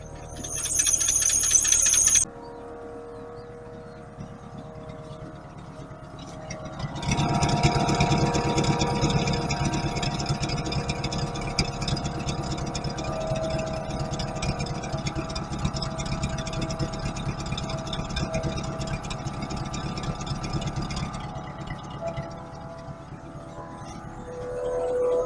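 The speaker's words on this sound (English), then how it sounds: "It's idling at about 600 RPM with just over 25 pounds oil pressure." A 1951 Packard engine idling at about 600 RPM with fresh new old stock spark plugs, a low steady hum that swells louder partway through, then eases slightly near the end.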